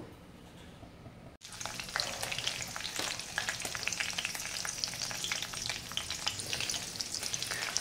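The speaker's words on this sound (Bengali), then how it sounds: "এবার তেলটা একটু গরম হলে তারপরে কালো জিরে আর কাঁচা লঙ্কা ফোড়নে দেব" Black cumin and green chilies hitting hot mustard oil in a pan, a sudden loud sizzle after a quiet start that keeps crackling and spitting steadily with stirring.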